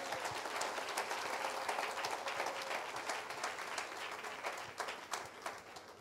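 A church congregation claps in praise during a sermon, with dense, steady applause filling the room for several seconds and swelling near the end.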